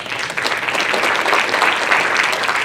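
Applause from an audience at a children's learning-lab city presentation and awards event, honoring a team: steady, dense clapping from many hands that holds at an even level throughout, with no voices.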